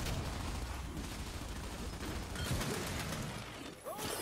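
Gunfire in the video game Gears 5, heard as a dense, continuous rattle of shots and mechanical clatter that stays loud and busy throughout, with a brief dip near the end.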